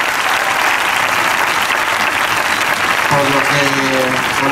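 A crowd applauds at the San Pedro Alcántara sports award ceremony of 2017, with loud, sustained clapping throughout, and a voice joins in near the end.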